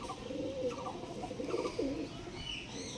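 Soft, low pigeon coos repeat several times at a moderate distance, with a faint chirp or two in the background.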